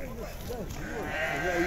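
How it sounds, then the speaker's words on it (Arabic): Ewes of the Berkia breed bleat in wavering cries at a crowded Monday livestock souk in El Hajeb, Morocco, with several calls overlapping near and loud against a busy background of market noise. "خروف زين هذا"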